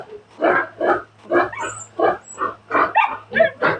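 Piglets in a pen squeal repeatedly in short, loud, rhythmic bursts, close by, over a low steady hum.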